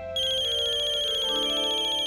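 A telephone rings with a steady electronic ringtone tone that starts abruptly and holds continuously, close and clear, with no voices over it.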